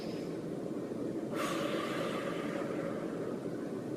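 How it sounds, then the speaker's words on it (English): One long, deep breath drawn in through the nose, a breathy rush that starts suddenly and fades slowly over a few seconds over steady low background hum. "So I'm gonna take a deep breath"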